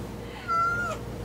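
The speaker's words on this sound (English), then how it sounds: "can we show everyone what a good kitty Sequel has become" A pet cat gives a single short, clear meow close by, rising over a soft indoor background hum.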